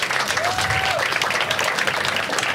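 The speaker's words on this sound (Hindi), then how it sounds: "और एक बार सब लोग अपने आप के लिए ताली बजा दो।" An audience at a stand-up comedy show claps in steady, dense applause that carries at full strength through the whole stretch, with a voice faintly audible underneath.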